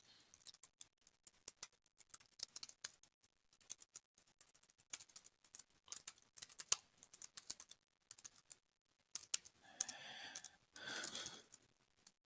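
Keys on a computer keyboard are pressed, including the tab key, while fields in a Google Form are filled in. The keystrokes are quiet and close, with irregular clicks and short pauses, then a brief rustle near the end.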